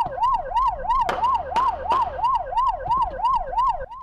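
Police car siren wailing on a late-night street in Taitung during a chase, a loud, steady rising-and-falling wail cycling rapidly, with a few sharp knocks cutting through partway.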